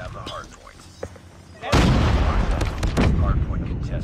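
Gunfire erupts in Call of Duty Mobile, scattered sharp shots giving way to a sustained loud barrage of rapid overlapping bursts and booms, with players talking over it.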